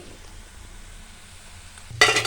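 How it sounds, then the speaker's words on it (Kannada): Onion pakoda frying in hot oil: a quiet, low bubbling fry that suddenly turns into a loud, bright crackling sizzle near the end as pieces are stirred or lifted, close up with no talk. "ನೋಡಿ ಇವಾಗ ಪಕೋಡ ತೆಗಿತಾ ಇದ್ದೀನಿ"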